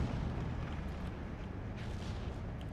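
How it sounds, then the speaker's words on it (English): Rumbling booms of big explosions on a battlefield in the Steel Division 2 war strategy game, a continuous low roar with a few muffled blasts, faint and distant without any talking. "Wow, those are some big explosions."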